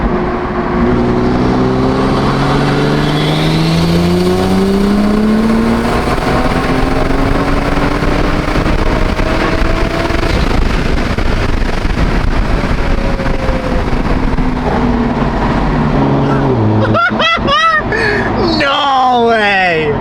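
A Toyota Supra pulls hard in fifth gear, its engine drone rising steadily under loud wind rush for most of the stretch, with excited voices talking over the end.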